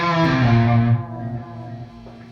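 A single sustained electric guitar note rings out with heavy reverb and delay from a TC Electronic G-System, then decays into a washed, echoing tail that fades gradually.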